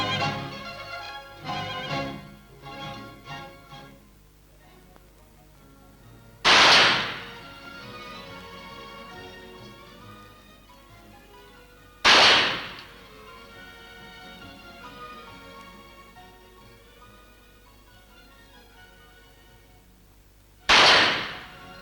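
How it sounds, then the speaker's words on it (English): Single pistol shots from the Mexico City Federal Police pistol team ring out as three sharp, loud cracks spaced several seconds apart, with quieter background sound between them. "foremost among them is this world-famous pistol team under the direction of Captain Camara."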